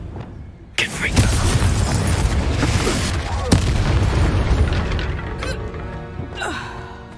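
A fiery Confringo spell blast in Hogwarts Legacy erupts with a loud boom, then rumbles and crackles for several seconds amid other combat noise.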